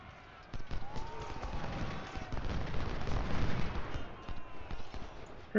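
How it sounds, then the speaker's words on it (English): Battle gunfire from the Civil War strategy game Ultimate General Civil War, including revolver shots, rumbles as a dense mix of cracks and booming reports with a muffled roar underneath. "I'll let Crocker just shoot him in the flank with his revolver"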